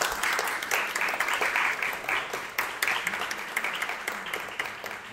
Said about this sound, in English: please give another big round of applause to our team here from Kaohsiung City.